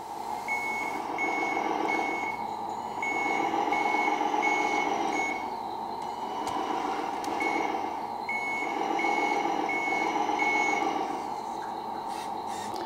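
Steady, repeating reversing beeps from the sound system of a customized Tamiya timber truck RC model, a regular high-pitched pulse cycling over a constant loud synthetic engine hum, with no talk.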